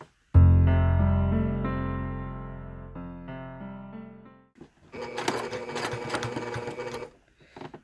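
Sewing machine stitching on quilt binding, a burst of rapid mechanical whirring and clatter in the second half, preceded by a sustained tonal ringing sound that fades out.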